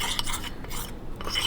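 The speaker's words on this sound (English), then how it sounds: "So just keep stirring until everything is completely mixed around." Spoon stirring protein brownie batter in a bowl, a continuous close scraping and rubbing with a steady rhythm and no talk.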